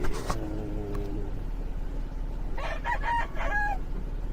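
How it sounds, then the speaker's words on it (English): A chicken kept in a back area, clucking and squawking in short bursts over a constant low background hum, with no talking. "Why do you have a chicken back here?"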